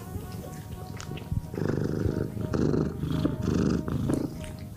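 A middle-aged sterilized shelter cat purring close to the microphone, a low rhythmic rumble in steady pulses with a brief pause near the start, no talking.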